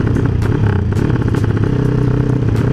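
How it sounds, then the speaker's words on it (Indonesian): A Honda Tiger motorcycle with a leaking exhaust idles close by, loud and rough, with a fast, uneven popping putter and clattering ticks throughout. "knalpotnya bocor lagi ini janco"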